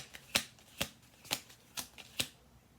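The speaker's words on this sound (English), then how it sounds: "One last shuffle here." Playing cards riffle in five quick, crisp bursts at a steady rhythm, close and fairly quiet, with no voices.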